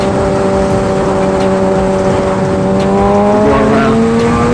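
A 2023 Kawasaki ZX6R sport bike rides past trucks on the road, its engine droning loud and close with a steady rising whine under heavy wind rush.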